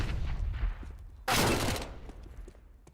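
Counter-Strike gunfire rattles in a short burst during a competitive match, with a sharp loud crack in the middle standing out over busy game noise, no talk.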